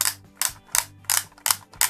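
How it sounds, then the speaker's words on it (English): Six rhythmic mechanical ratcheting clicks, evenly spaced and close up, from the film-winding wheel on a Disney Mickey Mouse Clubhouse toy camera. "this is where you wind on the film"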